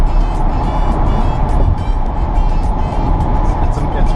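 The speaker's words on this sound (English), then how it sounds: "I'm about to have a car pass me on the left here." A car passes on the left along a multi-lane highway, a steady loud road and tire roar dominating from within a moving vehicle, with a faint voice mixed in.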